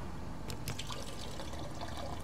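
Water poured into a cup in the sci-fi video game SOMA, a steady liquid trickle and splash running continuously at moderate level with a few brief clinks near the start.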